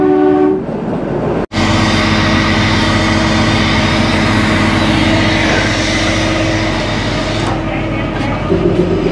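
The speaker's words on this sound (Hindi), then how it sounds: "ये मस्त ब्यूटीफुल सा ट्रेन" Kalka–Shimla toy train, a Vistadome coach on the hill line, rumbling steadily from inside with loud continuous wheel and carriage noise, a brief cut near the start and a horn-like tone near the end.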